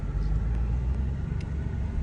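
Steady road traffic rumbles nearby in a tornado-damaged town, a continuous low droning of passing cars with no voices over it.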